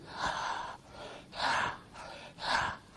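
Three strong, forceful breaths drawn in a steady rhythm during a yoga breathing exercise, close and loud, with short pauses between them.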